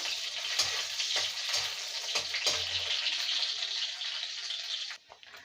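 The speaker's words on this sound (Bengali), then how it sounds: "রসুনটাকে ভালো করে ভেজে নেবো।" Chopped garlic fries in oil in a pan, a continuous bright crackling sizzle close by with a few soft stirring knocks, fading and dropping away at the very end, no speech.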